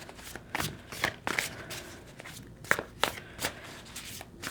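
Tarot cards being shuffled by hand, a run of crisp riffles and slaps repeating at an uneven pace, close and fairly loud with no talking.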